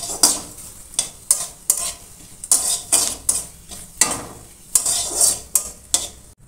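Cumin seeds dropped into a spoonful of hot oil in a pan for eggplant bharta, giving a steady close sizzle broken by repeated sharp scrapes and clinks of a spoon stirring against the pan, with no voices.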